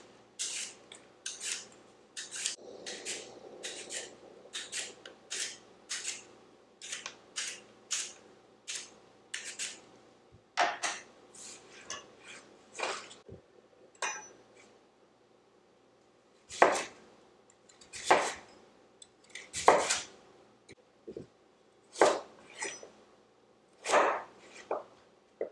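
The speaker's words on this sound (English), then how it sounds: "We're going to start by peeling and chopping our large sweet potato." A large sweet potato is peeled and then chopped with a knife, giving a quick series of scraping strokes followed by sharper, irregular chops on a board, close and clear with no talking.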